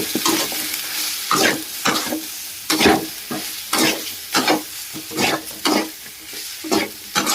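Chicken roast for a hotel-style dish being stirred in a pan over a low flame, a series of about ten scraping strokes at a steady rhythm over a soft background sizzle, close and clear with no talking.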